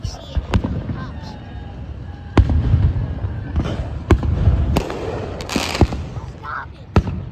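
Fireworks at a Fifth of July display pop and crack in sharp bursts, several close, loud reports spaced irregularly over a rumbling, crackling background while people talk nearby.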